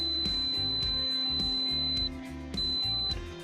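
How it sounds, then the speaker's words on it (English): A power folding and extending towing mirror module on a 2015-2020 Ford F150 gives a high electronic beep sequence, one long tone then a shorter one, over music and clicking. "a beep sequence of 1 long beep and 1 short beep will sound"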